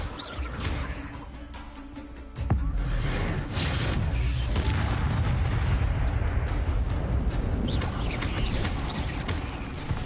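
A Confringo spell explosion in the video game Hogwarts Legacy: a sudden booming blast that rolls into a sustained roaring rumble of debris and fire, loud and close, with faint speech underneath.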